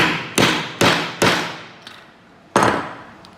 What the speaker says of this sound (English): Then you take your hammer, and you're gonna give it a couple hammer strikes hard until it's flat.